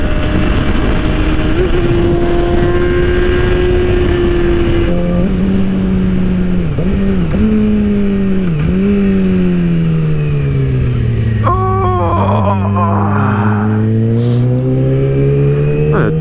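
A Yamaha R6 sport motorcycle cruising on a cold highway, its engine droning steadily with shifting pitch as the rider eases off and speeds up, wind rush heavy throughout and no talking.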